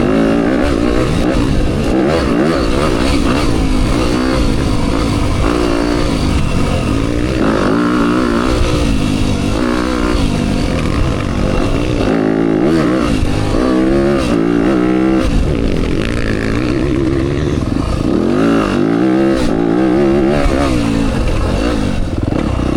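A Yamaha YZ250FX dirt bike rips along a fast, smooth enduro race trail in Ovett, Mississippi, its engine continuously revving up and down close to the microphone with clattering over the whole stretch.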